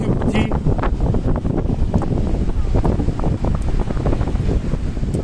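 Strong wind buffeting the microphone on a sandy beach, continuous loud roaring gusts with faint surf beneath and no clear talk.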